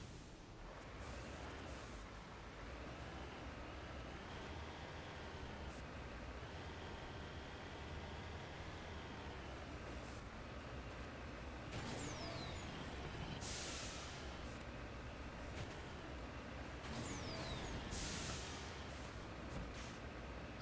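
Vehicle driving across terrain in Mass Effect 1 Legendary Edition on the planet Mavigon, a steady droning engine rumble with broadband rushing noise and a few sharper bumps, continuous and fairly loud with no talk.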